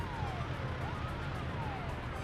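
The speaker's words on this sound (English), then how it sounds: "There's a new siren sound effect." A wailing ambulance siren in Workers & Resources sweeps up and down in pitch over a steady low engine rumble, fairly faint and continuous throughout.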